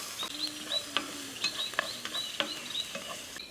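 Chopped onions being sautéed in a pan for chicken momos, with a spoon scraping and stirring in short strokes over a light sizzle, close and fairly quiet, no talking.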